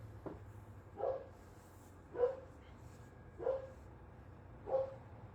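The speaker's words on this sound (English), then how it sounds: "There goes my dog." A dog barks four times at spaced, fairly even intervals, each a short, moderately distant woof heard over a quiet room background.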